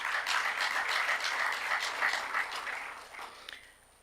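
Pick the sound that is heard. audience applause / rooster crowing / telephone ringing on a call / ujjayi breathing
audience applause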